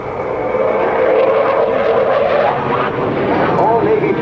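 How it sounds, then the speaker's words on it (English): An F/A-18C Hornet fighter jet at an airshow gives off a steady, loud engine roar. An announcer talks over it the whole time. "see the incredible thrust-to-weight ratio capabilities of the FA-18 Hornet"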